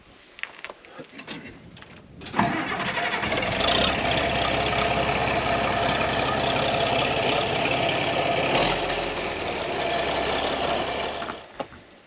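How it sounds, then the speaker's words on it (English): A farm tractor engine starts up and runs at a steady idle, loud and continuous for most of the stretch, with some brief talk and handling noise before it fires. "I'm gonna make sure I can get the other tractor started"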